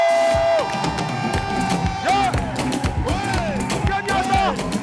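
A live crowd at an evening entertainment show cheers, whoops and applauds as a performer is introduced, a dense roar of voices with music playing underneath throughout.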